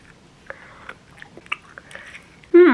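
Strawberry chewy candy bonbons made in France are chewed in a few faint, close, soft bites and squishes, followed at the end by a brief loud voice.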